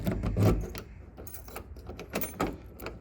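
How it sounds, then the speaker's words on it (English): A key goes into the door lock of a 1968 Ford F100 pickup and turns, giving a short run of close metallic clicks, scrapes and jingles. "Insert key."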